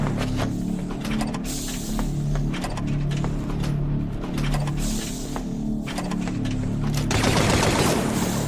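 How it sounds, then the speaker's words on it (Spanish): Sustained rapid blaster-style gunfire in the video game Star Wars: Death Troopers, dense bursts of automatic shots with a mechanical hum beneath, loud and continuous, ending in a hissing burst near the end. "¿Y por qué se calienta cuando disparo una bala?"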